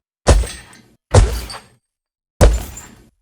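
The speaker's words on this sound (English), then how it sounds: "the chains beat against the metal body of the breaker" Three separate heavy metallic bangs, each with a sharp thudding onset and a short ringing tail, the Minecraft Ravager's chains striking its metal body, spaced irregularly and close up with no voices.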